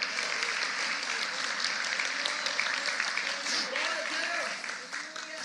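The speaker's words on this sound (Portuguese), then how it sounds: "Pode aplaudir ao Senhor Jesus." Church congregation applauds during a sermon, a continuous wash of clapping at moderate distance with voices and cheering rising through it.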